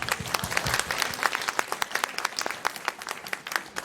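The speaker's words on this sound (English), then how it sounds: "this is a roaring round of applause" An audience at a magic show applauds the school principal as she comes on stage, a brisk, sustained burst of many hands with sharp individual claps popping out of the mix.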